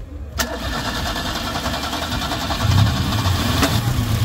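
A used car's engine cranks and catches, then settles into a steady, fairly loud mid-pitched idle, with a faint brief click near the start and another partway through.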